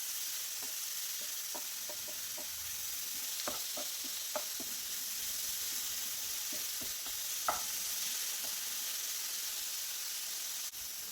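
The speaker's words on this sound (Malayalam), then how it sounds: "ഈ മസാലകളൊക്കെ നല്ലതുപോലെ ഇതിലേക്ക് പിടിക്കുന്ന വിധത്തിൽ ഇളക്കി കൊടുക്കണം" Mussels being stirred with masala in a hot pan for kallummakaya thoran, a continuous quiet sizzle broken by scattered sharp spoon taps and scrapes, close and steady throughout, with no talking.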